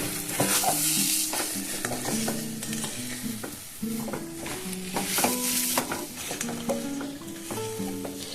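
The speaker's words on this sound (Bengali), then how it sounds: "এবার সব এগুলোকে আমি মিশিয়ে নেব ভালো করে এটাকে ভেজে নিতে হবে" A chana masala mixture with sugar stirred and fried in a pan: continuous close sizzling under repeated scraping, clattering spoon strokes in a steady rhythm, no voices.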